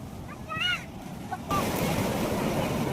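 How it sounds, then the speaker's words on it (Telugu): Waves washing onto the sand at Chirala beach, heard as a steady broad rush that swells louder halfway through, with wind buffeting the microphone and brief faint voices early on. "So this is the Cheeriyala beach."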